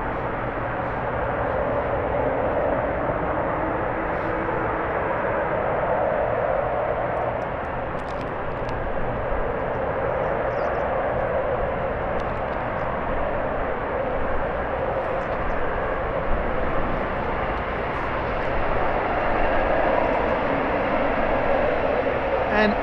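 A Lufthansa Boeing 777 cargo plane on final approach to runway 25R at Frankfurt Airport in freezing weather, a steady broadband engine roar and rumble holding loud and even throughout, with no clear peak.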